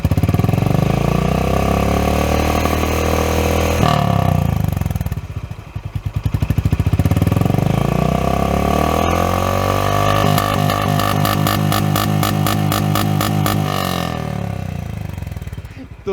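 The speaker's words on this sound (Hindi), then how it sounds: "तो सबसे पहले हाइनेस को प्ले कर देते हैं और ये देखते हैं सरगम कैसी निकलती है इसकी।" A Honda H'ness CB350 motorcycle runs with a steady, thumping exhaust note at idle, then revs up and settles back several times, loud and close.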